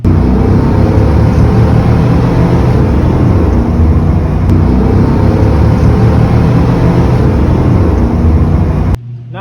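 A 2004 Chevrolet Silverado truck with the 6.0 V8 and 4.56 gears accelerates, its engine roaring loud and steady for about nine seconds before cutting off abruptly near the end.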